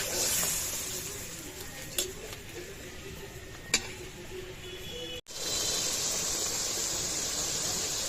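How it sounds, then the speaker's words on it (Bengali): Fish head and potatoes sautéing in a pan for a Bengali murighonto, giving a steady close sizzle with a few sharp stirring clicks and a brief cut before the frying hiss resumes. "এই মাছ আলুটা ভালো করে কষিয়ে নিব।"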